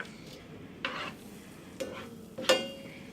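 Marshmallows being stirred in a pot to melt them for rice crispie treats, giving a few soft scraping and tapping strokes of the spoon against the pan, spaced apart and fairly close, with no talking.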